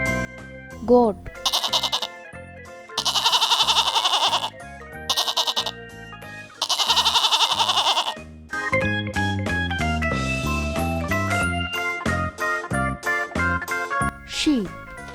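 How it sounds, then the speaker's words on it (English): A goat bleats in two loud, wavering bursts with short pauses between, then playful music takes over in a farm-animal toy sound sequence. "Goat."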